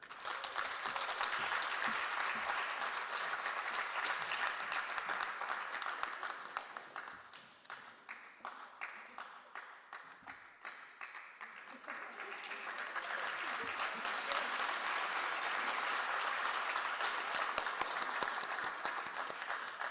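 Sustained applause from a large audience honouring graduates at a Governors State graduation ceremony, a dense steady clatter of many hands that thins and dips midway before swelling back to full strength.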